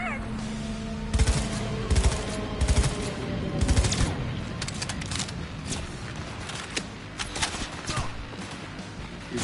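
Bursts of automatic gunfire and scattered single shots ring out in the video game Cyberpunk 2077, loud rapid volleys clustered early and thinning into sporadic cracks toward the end, over a low ambient hum.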